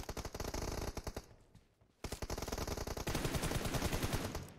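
Rapid automatic gunfire in the shooter game BGMI, loud bursts of rattling shots that pause briefly before resuming in a longer, sustained volley.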